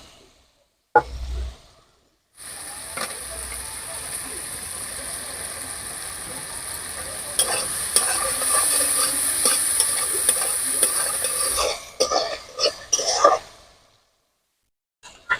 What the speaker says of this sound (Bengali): আদা বাটা দিয়ে এর মধ্যে ভেজে রাখা কলাটা দিয়ে একটু কষিয়ে নেবো